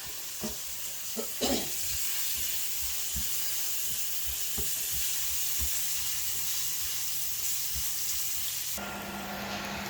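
Onions sizzle and fry steadily in a pan for a Spanish tortilla, a continuous hiss with occasional soft stirring knocks, close and alone without talk.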